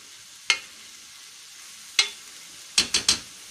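Vegetables frying in a pan are stirred, with five sharp scraping strokes against the pan, two spaced apart and then three in quick succession, over a faint steady sizzle.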